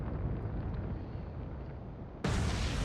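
In Atlantic Fleet, a shell slams into an enemy warship with one abrupt, loud explosive burst over a constant windy, rumbling sea backdrop, the roar continuing afterward.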